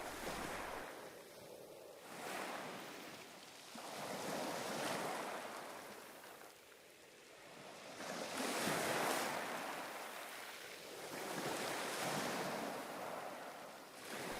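Sea surf rolls in as soft, distant waves, each swell rising and falling in slow repeating surges a few seconds apart, with no voices.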